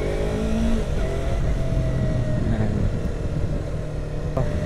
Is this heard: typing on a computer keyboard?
no